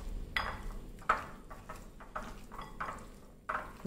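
Chicken coated in ginger garlic paste and spice powders is stirred in a pan, with soft scraping strokes and a spoon clinking against metal at irregular intervals, close and fairly quiet.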